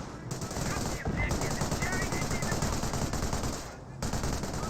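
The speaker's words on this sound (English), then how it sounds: "Captured MG42 gets some good suppression there to support the suppression of the Bren carrier" In Company of Heroes, a captured MG42 machine gun fires sustained rapid bursts amid battle noise, with two short pauses breaking the fire.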